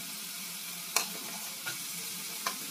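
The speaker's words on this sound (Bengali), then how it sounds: "2 টেবিল স্পুন সাদা তেল দিয়েছি, মানে রিফাইন্ড তেল দিয়ে ভেজে নেবো" Carrots sizzle in refined oil in a pan, a steady bright frying hiss with three brief stirring scrapes, heard close and alone without talk.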